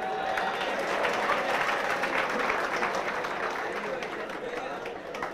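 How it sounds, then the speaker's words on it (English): Students applaud in a lecture hall during a finance lecture, a steady dense clapping that fills the whole stretch at moderate loudness, with a voice talking faintly underneath. "Don't clap."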